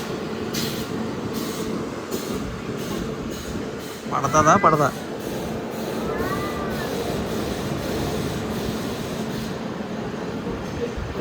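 Simhadri Express train rolling at Narsipatnam Road railway station, with a steady rumble of wheels on track and rhythmic clacks over rail joints, while a voice briefly speaks and squealing tones rise midway.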